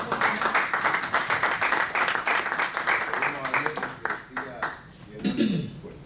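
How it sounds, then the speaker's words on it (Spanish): A church congregation applauds a guest speaker with steady clapping that fades toward the end, while voices speak over it. "Un aplauso para José."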